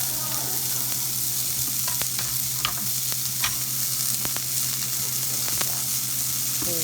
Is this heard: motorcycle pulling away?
no